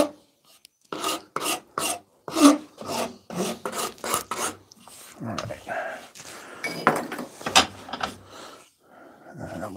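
Half-round rasp shaping a wooden axe handle clamped in wooden vise jaws, a series of close, rhythmic scraping strokes, about a dozen distinct passes followed by quicker, rougher rubbing.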